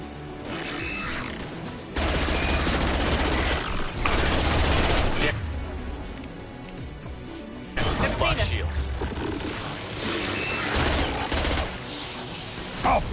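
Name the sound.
gunfire in the video game Mass Effect 2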